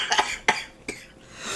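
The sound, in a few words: death metal vocalist coughing in played track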